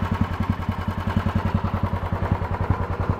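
A John Deere 180 lawn tractor with a 38-inch mower deck runs close by while mowing grass, its engine pulsing in a fast, even, chugging rhythm at steady loudness.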